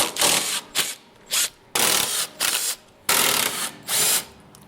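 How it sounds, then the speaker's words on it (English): A 13mm socket ratchet clicks in repeated short bursts, close and crisp, as the strut top bolts come undone on the front suspension of a Volvo 850. "Next, using a 13mm socket, undo the strut top bolts."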